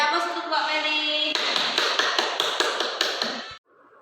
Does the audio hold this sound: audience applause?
yes